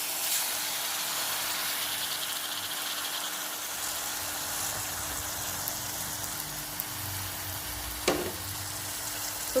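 Onions and tomatoes sauté in a pan on the stove, giving a steady soft sizzle and hiss with a faint tonal hum and a brief scrape near the end, no voices.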